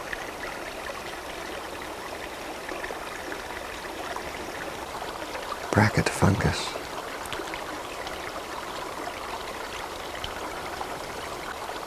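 Steady rush of a forest stream flowing past ferns and young Douglas firs, a continuous broadband wash throughout, with a brief louder splash or knock near the middle and a voice speaking briefly.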